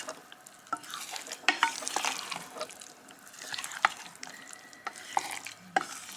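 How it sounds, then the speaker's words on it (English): Chunks of corned beef are stirred into a pasty filling in a pan, giving soft wet scraping and squelching strokes with occasional spoon clacks, close and fairly quiet, under a faint background sizzle. "So all the corned beef chunks. Then just mix it in."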